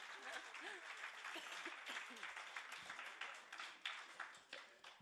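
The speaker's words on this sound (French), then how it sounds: "Oui, vous pouvez applaudir, vous savez, ça fait toujours plaisir." Conference audience in Brussels gives sustained applause, a steady dense patter of many hands close by that swells slightly and tapers toward the end, with a few louder individual claps.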